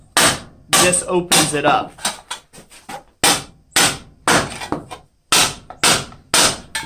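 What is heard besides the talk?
hammering scrap copper on the horn of an anvil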